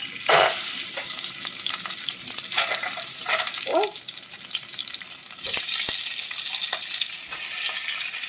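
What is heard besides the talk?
meat frying in oil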